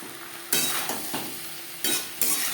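Potatoes and eggplant frying over high to medium flame, turned with a utensil in a pan; loud bursts of sizzling surge several times as the pieces are stirred, with quieter frying in between.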